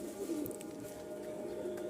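A low, soft pigeon coo murmurs steadily in the background, faint and continuous with no other voices.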